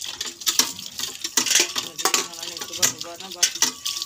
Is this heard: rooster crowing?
no